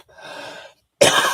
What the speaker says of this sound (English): Excuse my coughing tonight.